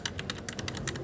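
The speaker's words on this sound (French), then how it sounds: "on passe sur du clicky par contre. Du coup ça fait un bruit de monstre" Clicky mechanical keyboard switches typed in a quick, even burst of sharp, bright keystrokes, close and alone with no talking.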